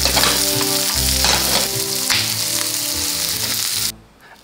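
Onion hits a hot pan for homemade shrimp ramen, giving a loud, close, roaring sizzle that holds steady and then cuts off abruptly near the end.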